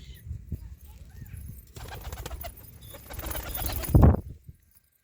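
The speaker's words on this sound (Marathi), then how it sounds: "हे पहा माझ्या मेवण्यानी कबूतर बालकलेत पाललेत" Soft cooing from about twenty pigeons kept on a balcony in a Maharashtra village, mixed with a low rustling background, rising to a louder burst near the end before fading into silence.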